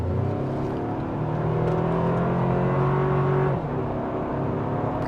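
A 2025 Toyota 4Runner TRD Sport Premium engine revs steadily upward, its pitch climbing, then drops briefly as a gear shifts before pulling again, loud and close throughout.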